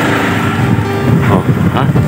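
Wind buffets and roars across an outdoor microphone in a steady broadband rush, with someone talking over it.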